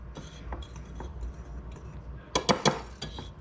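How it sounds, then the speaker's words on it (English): A whisk rattles against a bowl while mixing dry baking ingredients of flour, salt and baking soda for raspberry bread, giving quick clinking taps that grow into a louder burst of sharp metallic strikes near the end. "and now we're gonna whisk."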